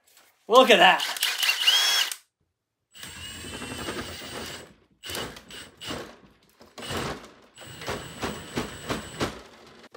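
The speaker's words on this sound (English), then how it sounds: "Turns out this drill bit is too short. So that's why they invented this extension." A power drill fitted with an extended bit, boring in short whirring bursts separated by pauses, near and moderately loud, with a person speaking briefly at the start.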